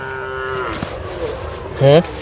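A large bull moos loudly and close by at a cattle market in Sangola, a long drawn-out low call followed by a shorter, rougher bellow near the end.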